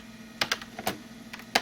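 Keystrokes on a 1980s Macintosh SE computer keyboard, a handful of sharp, irregular clicks spread over a second and a half, fairly close and clear against a steady low hum.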